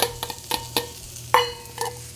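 Carrots and onions sizzle in a stir fry pan at home, a soft steady frying hiss broken by several sharp scraping stirs and clacks, close and clear with no talk.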